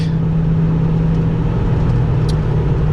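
Ford Mustang GT V8 cruising on a snowy road: a steady, loud low engine drone with tire and road noise, no revving or shifts.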